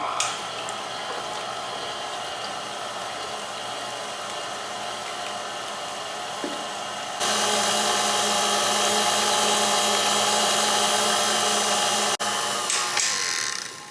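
Electric stand mixer with a whisk attachment mashing bananas with vanilla extract for banana popsicles, a loud steady motor whir that jumps to a higher speed midway and then cuts off.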